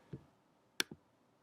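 A few sharp, dry computer mouse clicks, one soft click followed later by a quick double click, close and quiet in an otherwise silent room.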